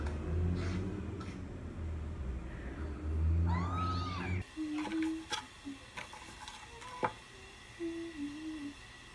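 A house cat meows a few times in a home during a housewarming gathering, mostly after people chatting nearby fall quiet, with short close mews standing out from a quieter room.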